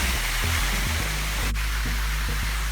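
Water pours steadily at Krok Ma Tai waterfall and its stream, a constant broadband rush with a low rumble underneath, close and fairly loud throughout.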